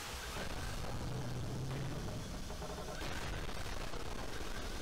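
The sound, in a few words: explosions in the video game Gigantic Army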